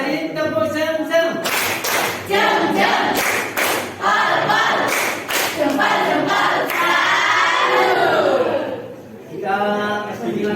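A classroom group clapping game, with a class of students clapping in short rhythmic bursts of several sharp claps, loud and close, mixed with brief shouts and a teacher's voice between rounds.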